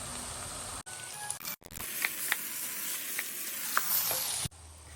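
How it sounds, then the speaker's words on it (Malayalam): Sliced onion and carrot fry in hot oil in a pan. A steady close sizzle runs throughout, broken by a few light stirring clicks and brief handling knocks at the start and end. "നമ്മളൊരു പാൻ ചൂടാക്കി എണ്ണ ഒഴിച്ച് അതിലേക്ക് ആവശ്യത്തിനുള്ള സവാള ആഡ് ചെയ്ത് കൊടുക്കുന്നുണ്ട് കേട്ടോ."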